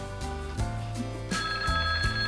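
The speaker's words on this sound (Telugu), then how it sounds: "అగో మా తమ్ముడు ఫోన్ చేస్తాడు." A telephone rings loudly and close by, a steady repeating ringtone pattern with no voices over it, signalling an incoming call from a brother.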